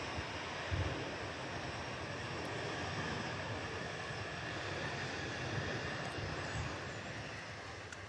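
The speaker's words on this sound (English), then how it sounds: "Next plane coming in is JetBlue Airways coming in from Boston in a A320." A JetBlue Airways Airbus A320 airliner inbound from Boston on approach to Nashville International, heard as a steady, broad engine roar that holds loud and even for about eight seconds with no talk.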